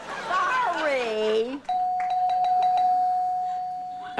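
A person speaks briefly, then a bright electronic chime rings out on a radio show, a clear sustained tone with a few soft pulses, fading gradually.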